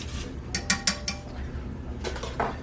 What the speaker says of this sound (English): I'm just going to whisk it up like that until it's smooth and a little bit thick